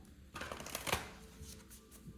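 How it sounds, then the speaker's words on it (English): Tarot cards being shuffled in a quick riffle, with a crisp flurry of papery flicks peaking in the middle, then softer shuffling taps. "one more shuffle."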